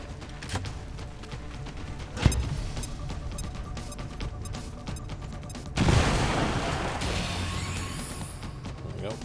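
A bomb detonates in XCOM 2 as a sharp boom followed by a sustained crashing roar, with people talking over the game.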